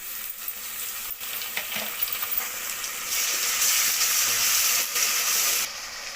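Ginger garlic paste frying in a pan, cooked with green chillies as the base for dalcha. Steady bright sizzling and spattering run throughout and grow louder near the end, with no talking.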